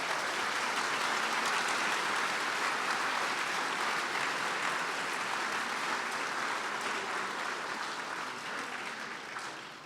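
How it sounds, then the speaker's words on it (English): A room full of people at a pre-play ceremony gives a warm, sustained round of applause, dense clapping holding steady for about ten seconds before tapering slightly toward the end. "Please join me in giving them a warm round of applause."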